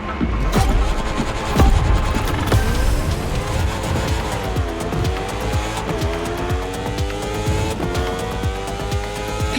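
Racing machines in The Crew Motorfest, engines screaming loudly and continuously with rising and falling revs, gear shifts and squealing tires.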